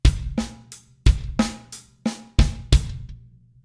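Isolated drum kit playing a short paradiddle groove of sharp strokes with deep hits from two bass drums under them, close and clear, about eight strikes over a few seconds.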